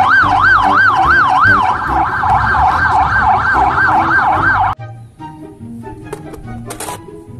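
Toy police patrol car siren: a loud, rapidly warbling electronic tone repeating evenly for nearly five seconds, then stopping abruptly into quieter clicks and rustling.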